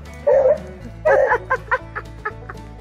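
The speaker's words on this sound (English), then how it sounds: "I love this beagle dog" A dog barks in a quick string of sharp, loud yelps, several in a row, close by and with no talk over them.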